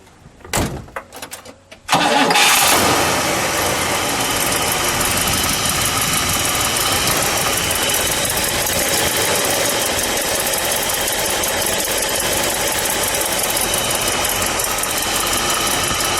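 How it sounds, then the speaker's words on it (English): A 1959 Pontiac Bonneville convertible with the Tri-Power V8 cranks over, catches with a loud roar, and settles into a steady, close idle that rumbles on without talk. "Ken, can we start this one up?"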